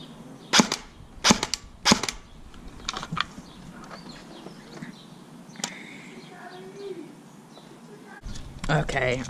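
An airsoft M4 rifle fires sharp, snappy shots: a few spaced cracks early on, then scattered lighter clicks, and a final cluster of shots at the end, recorded close with some background noise.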